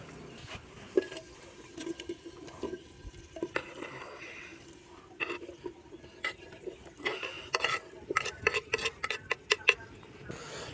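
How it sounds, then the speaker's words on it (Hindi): Potatoes and radish tipped into a pan of well-fried masala and stirred for an aloo mooli sabzi, giving a run of close, sharp clinks and scrapes of a spoon on metal that grow busier and louder toward the end. "तो इस टाइम पे आके मैं इसके अंदर सब्ज़ी डाल दूंगा आलू और मूली की"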